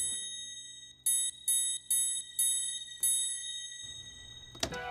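Bright triangle hits from a stock Ableton instrument, washed in reverb, ring out in a steady series of five strikes with long shimmering tails, followed by a brief noisy swell at the end.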